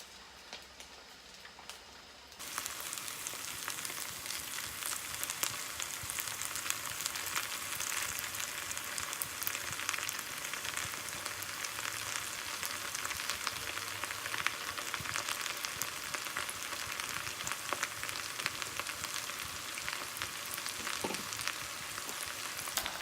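Pieces of chapssal tangsuyuk, glutinous rice sweet and sour pork, drop into hot oil and break into a loud, dense, steady sizzle that continues unbroken after a brief quiet start.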